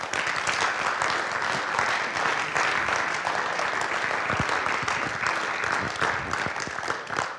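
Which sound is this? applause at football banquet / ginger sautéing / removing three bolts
applause at football banquet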